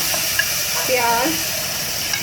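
Minced meat and onion frying in a hot pot, a steady close sizzle with stirring scrapes and a brief tonal scrape in the middle, no talking.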